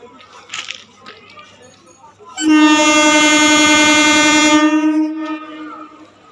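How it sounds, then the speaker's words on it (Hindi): An Indian Railways train at Sealdah station sounds a long, loud, steady horn blast lasting about two seconds, with faint station noise and a brief voice heard before it. "बाय बाय हमारी प्यारी ट्रेन जिसने हमको शियालदा पहुंचाया।"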